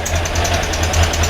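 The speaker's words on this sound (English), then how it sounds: "that's the engine running nicely at a fastened up idle" A Volkswagen air-cooled engine fitted with twin Solex 32 PDSIT carburettors idles at a raised, steady speed, a close, loud low-pitched chugging with an even pulsing rhythm and a mechanical clatter.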